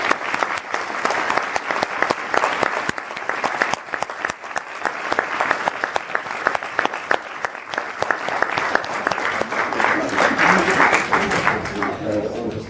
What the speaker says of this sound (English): Arti, Kiran, Paul, give a massive round of applause.